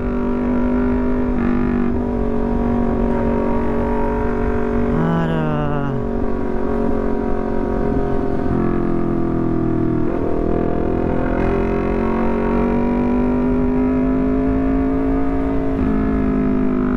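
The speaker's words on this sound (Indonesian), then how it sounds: "kondisi di jalan ternyata sungguh padat kendaraan boy, sangat padat" Dense, congested street traffic in Makassar surrounds a riding Honda CBR250, its engine droning steadily with rising and falling pitch as other vehicles pass close by, continuous and fairly loud with no talk.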